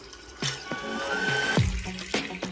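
Water is poured into a pot of roasted mutton in a home kitchen, a short splashing gush among clinks and knocks of the pot, close and brief.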